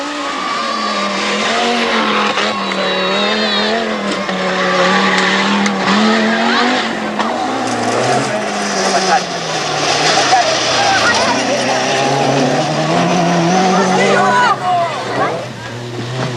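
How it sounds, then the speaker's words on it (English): Peugeot 205 Turbo 16 rally cars on driving tests, engines revving and droning loudly with shifting pitch and brief tire noise, under continuous narration. "205's Turbo 16 are going to make their first driving tests"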